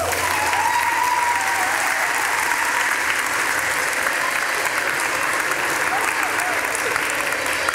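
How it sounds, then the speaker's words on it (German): A live audience applauds steadily at a German-language storytelling stage show about the Argonauts, dense clapping filling the whole stretch at an even level, with a faint voice briefly under it at the start. "Einen kleinen Applaus."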